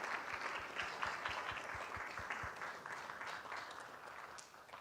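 Applause from the audience at a spring piano recital, a moderate, fairly distant patter of many hands that gradually thins out over a few seconds.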